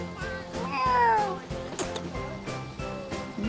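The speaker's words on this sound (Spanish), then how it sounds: "Ese gatito." A kitten gives a few short, clear meows among street noise on a trip in Colombia, with people talking nearby.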